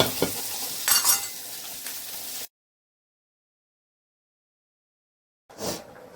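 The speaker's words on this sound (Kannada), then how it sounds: "ಬೆಂದ ಮೇಲೆ ಇದಕ್ಕೆ ಒಂದು ಒಣಮೆಣಸಿನ ಒಗ್ಗರಣೆ ಕೊಡೋದು" Dry red chillies sizzle in hot oil for a tempering, with a close, bright crackle and some stirring clatter. It cuts out to silence, then a short burst of sizzling returns.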